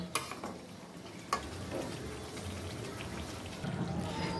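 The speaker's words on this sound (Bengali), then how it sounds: "আমি এই মাংসটা এভাবে 15 থেকে 20 মিনিট মাঝারি আঁচে রান্না করে নিব" Meat for a quick biryani simmers in a pot over medium heat, giving a steady low bubbling sizzle with a couple of sharp stirring clinks near the start, continuous and close.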